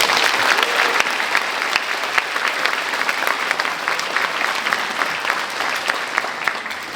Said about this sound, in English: Let's give a round of applause to those graduates as well.